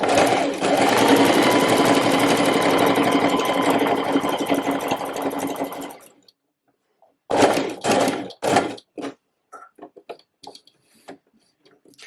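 A sewing machine stitching the corner of a reversible waistcoat runs in a fast, steady mechanical chatter for about six seconds, stops, then makes a few short bursts of stitches with clicks and pauses between them.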